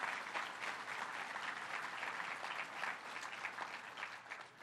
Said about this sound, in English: Let's give him a round of applause and thank him very much.